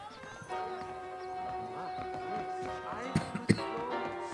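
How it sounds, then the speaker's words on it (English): Steady clip-clop of horse hooves at a trot in the Western video game Red Dead Redemption, moderately close under music, with a brief whinny and a couple of sharper knocks near the end. "The horse is now your trusty steed."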